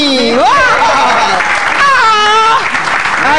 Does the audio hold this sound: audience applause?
yes